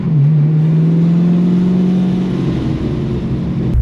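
A dirt-cheap LS1 V8-swapped Porsche 911 launches hard, its engine blaring close and loud in a steady droning howl that holds for several seconds before easing off at the end.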